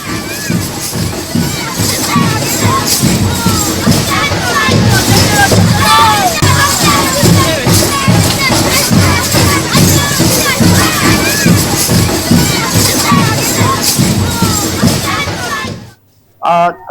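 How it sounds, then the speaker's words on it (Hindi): A dense crowd at a Muharram mourning procession moving from Harinagar to an imambara in Uttarakhand, with many overlapping voices and occasional shouts forming a loud, continuous hubbub that cuts off abruptly near the end. "आज ये जुलूस हरिनगर से इमाम बाड़े तक निकाला गया, जिसमें हर आंख नम नजर आई।"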